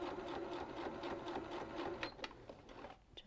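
A sewing machine stitches a seam in a steady, continuous mechanical whir, heard close up and fairly quiet with no talking.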